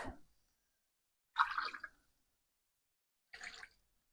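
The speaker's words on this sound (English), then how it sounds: "Then we want to add our water" Water is poured into a jug to deglaze it while red curry sausages cook, coming as three short, quiet splashing pours separated by silence.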